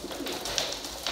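Pigeons coo in a coop, soft low calls close by over a steady background hum, with a couple of brief higher chirps.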